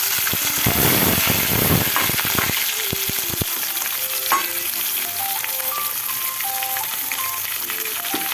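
Onions and curry leaves frying in hot oil for a Telugu fenugreek-dal dish, a loud dense sizzle with a few scraping stirs early on, steady throughout with no voices.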